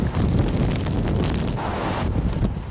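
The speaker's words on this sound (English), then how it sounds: "With maximum sustained winds near 80 miles an hour and gusts even higher" Strong hurricane wind, sustained near 80 miles an hour, roars and buffets the microphone in a loud, continuous rush with no pauses.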